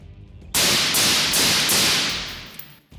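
A Mustang Armament Chesty 11.5 rifle with a mid-length gas system fires a few loud, sharp reports close by, each crack spreading into a booming wash that slowly fades.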